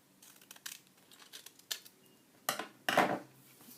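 Scissors cutting card for a shaker tag, a string of short crisp snips of varying loudness, close and quiet, ending with two louder, longer cuts.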